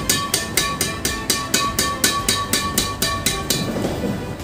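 Yonex Astrox 88D badminton racket strung in a rhombus pattern at 28 lbs, its strings struck about a dozen times in a steady, even rhythm, each a crisp ping with a short ring, loud and close with no talking.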